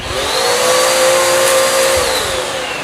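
Dirt Devil or Hoover vacuum cleaner running steadily up close, a loud continuous whining motor drone with a high tonal whistle holding throughout, no talk over it.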